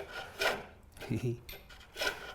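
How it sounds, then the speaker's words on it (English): A spindle gouge cuts a wooden chair tenon on a lathe, producing three rasping, scraping passes of bulk removal close up with brief pauses between them. "it's easier doing it with a spindle gouge to remove a large amount of bulk"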